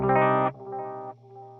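A distorted electric guitar chord run through a Boss DD-500 delay with its EQ set at 800 Hz and the tightest Q rings out, then repeats twice as quieter, narrower nasal echoes that step down in level.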